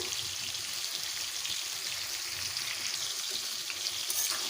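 Taro stems cooking in a pan with salt and turmeric and no added water, alongside rohu fish head, give a steady, soft sizzle and crackle throughout, with no voices.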